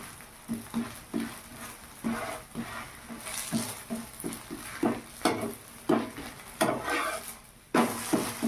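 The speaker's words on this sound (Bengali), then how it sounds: "উল্টো পাশ ঘুরিয়ে নিলাম এই পাশটা ভাজা ভাজা হয়ে গেছে" Bottle gourd chokli pitha fries in a pan, with a faint sizzle under repeated close scraping and clinking bursts as the pieces are turned and moved with a utensil.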